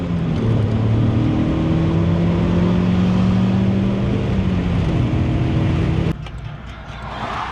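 A drift car's engine is held at high, steady revs while being driven hard to burn off carbon, a loud continuous drone with a slowly shifting pitch that drops abruptly near the end to a lower, quieter run.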